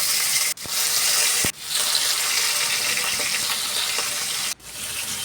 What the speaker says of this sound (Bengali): তেল দেওয়ার পর তারপর আমি একে একে সব মাছগুলো দিয়ে দেব।